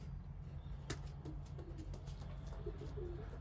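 Pigeons in a breeding loft holding about two dozen birds, with faint low cooing under a steady hum of loft noise and one sharp brief click partway through.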